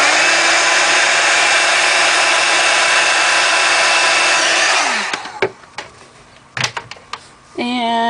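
A heat tool roars steadily as it warms one small spot on a beach-themed resin art piece, then cuts off about five seconds in, leaving quiet clicks and light handling noises afterward.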